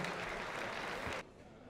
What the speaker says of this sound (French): Je voudrais qu'on les applaudisse, s'il vous plaît.